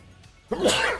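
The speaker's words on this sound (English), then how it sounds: "so much sneezing today." A single loud, sharp sneeze from one person, very close, with a short breath drawn in before it and no talking.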